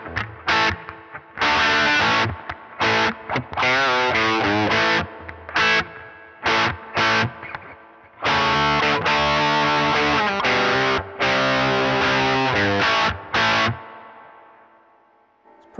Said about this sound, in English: Now let's hit it with some rat distortion here.